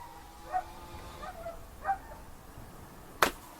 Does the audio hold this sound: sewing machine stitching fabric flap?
no